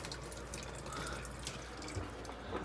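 Water rushes steadily through a just-opened valve on a wall-mounted pressure washer setup to bleed out air, a constant close hiss of running water with faint drips and knocks.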